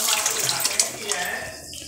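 Water splashes and runs while soaked peanuts are washed, a close, bright sloshing and trickling that fades toward the end.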